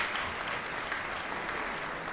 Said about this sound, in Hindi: जोरदार तालियों के साथ स्वागत कीजिए नंदिनी जी का